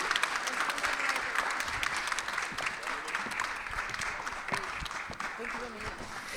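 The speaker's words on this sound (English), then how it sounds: "Please give a big round of applause for our panelists." Sustained audience applause for a conference panel on European transport policy, a dense steady clapping from a large crowd that continues throughout without pause.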